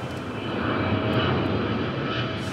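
A passenger aeroplane on final approach to landing gives a steady, broad engine roar that swells slightly and holds throughout, with no voices over it.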